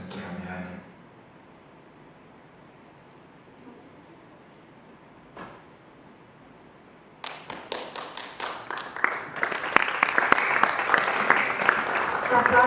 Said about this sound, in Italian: L'applauso veramente era a Giuseppe Di Vagna